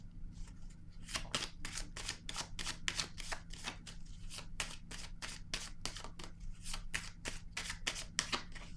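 Rapid riffling of a deck of playing cards being shuffled, a steady run of quick crisp flicks close by, with no speech.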